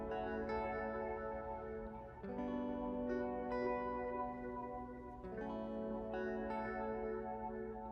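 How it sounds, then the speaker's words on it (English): Several stereo electric guitars play together through a phaser and high-pass filter, producing a thin, swirling, washy layer of sustained chords with shifting notes, moderately quiet and without voices. "So all the electric guitars sound like this together."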